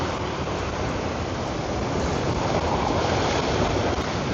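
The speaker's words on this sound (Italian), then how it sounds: "nonostante le onde siano abbastanza grosse, comunque sono lunghe e lente" Large, long and slow sea waves roll in steadily where someone fishes for sea bream with live crab bait, a continuous loud surf wash with wind across the microphone and no voices.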